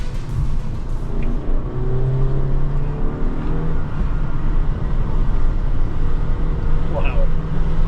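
Engine of a 2024 Honda Elevate climbing and falling in pitch as it revs while driving, heard from inside the cabin with a steady road rumble beneath.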